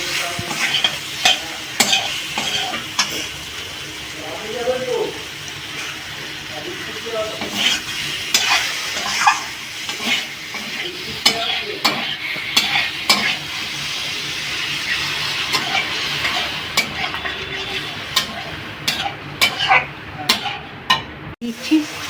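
Spices for a chhana aloo curry are stir-fried in a pan, giving a continuous sizzle broken by repeated scraping stirring strokes and clatters of the utensil against the pan.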